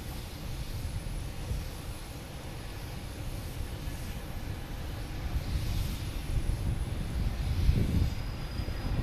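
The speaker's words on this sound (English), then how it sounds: "We got a JetBlue coming in from San Francisco." JetBlue Airbus A321 arriving from San Francisco at Boston Logan, its engine rumble building gradually from a low wash to a louder roar toward the end.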